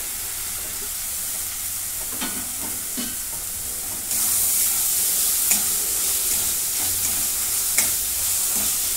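Tomatoes sautéing in a pan give a constant close sizzle that grows louder and brighter partway through, with a few soft stirring clicks and scrapes.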